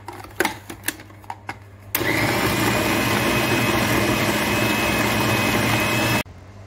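Food processor chopping poultry offal, a few clicks and knocks before the motor starts, then a loud steady whirring buzz for about four seconds that cuts off abruptly.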